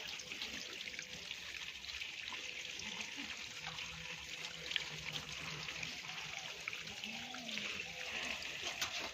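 Water running steadily from a pipe during a baby's bath, a continuous soft hiss and trickle throughout, with faint voices in the background.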